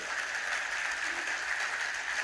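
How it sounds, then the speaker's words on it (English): Conference audience clapping in a sustained, even patter of applause that stays at a moderate level throughout. "Oh, clap! Go ahead, clap for it."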